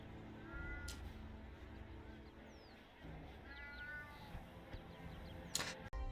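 A cat meowing in the RuneScape video game, several short rising mews scattered across a quiet game soundscape of low hum and a few sharp clicks.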